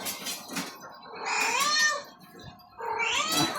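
A cat meows loudly several times in long, drawn-out wails, close by, with short pauses between calls.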